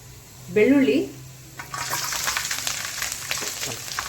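Chopped garlic and ginger hit hot oil in a pan for street-style Gobi Manchurian, a steady bright sizzle and crackle that runs on after a brief voice at the start.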